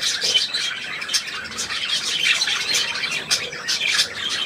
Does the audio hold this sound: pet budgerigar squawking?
yes